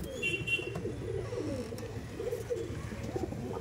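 Several Madras pigeons coo together in low, rolling, overlapping phrases, close and steady throughout, with a faint higher chirp or two above.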